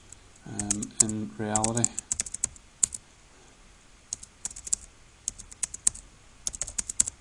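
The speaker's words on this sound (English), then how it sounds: "I'm just going to type in a couple random values" Values are typed on a computer keyboard in Excel, with crisp close key clicks coming in irregular bursts after a brief spoken phrase.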